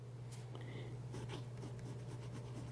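A fine fountain pen nib with good ink flow scratching softly across paper in short strokes, faint and close, with a steady low hum underneath and no talking.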